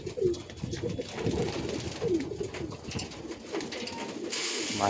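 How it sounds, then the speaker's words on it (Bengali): Pigeons at feeding time coo in soft, repeated throaty calls close by, with rustling and faint background noise throughout. "কবুতরগুলা খাবারের জন্য সব ছটফট করতেছে"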